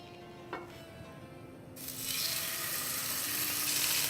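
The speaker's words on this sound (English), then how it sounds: "I'm gonna put the steak in." A steak hits a hot pan partway through and bursts into a loud, steady searing sizzle that keeps building and hissing to the end.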